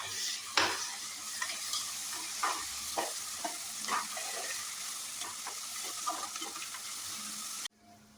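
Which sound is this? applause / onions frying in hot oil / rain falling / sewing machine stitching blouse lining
onions frying in hot oil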